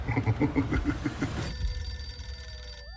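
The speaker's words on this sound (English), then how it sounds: "that phone over there is gonna ring" A telephone rings in a scene from the film Jack Reacher: Never Go Back, with a rapid, trilling bell burst followed by a sustained electronic tone fading out, loud and close, with no talking.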